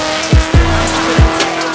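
Drift race cars, including an RX-8 with a Corvette engine, scream past one after another on a competition track, with three sharp tire squeals in quick succession over a steady engine drone.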